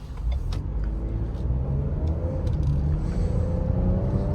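A 2023 Ford Edge ST drives under steady engine rumble and road noise, with the engine note rising and easing as the transmission hesitates between gears; no voices are heard.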